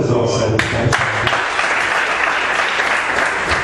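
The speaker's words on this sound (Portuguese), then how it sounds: "Vamos dar uma salva de palmas." Applause bursts out from a church congregation at the close of a sermon, a dense steady clapping that fills the space, with a voice heard briefly at the start.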